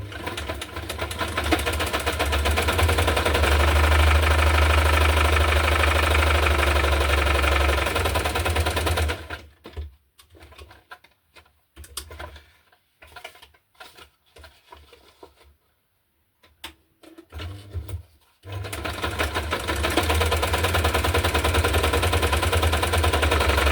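Sewing machine stitching junk journal paper pages with brown thread, rapid steady needle chatter in two long bursts separated by a quiet pause with faint handling sounds, loud and close, no talking.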